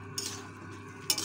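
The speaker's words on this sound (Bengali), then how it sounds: "তো জল দিয়ে একটু নাড়াচাড়া করে নিব" Mixed vegetable curry stirred in a pan after water is added: a low bubbling simmer with two brief scraping strokes of a spoon, quiet and close.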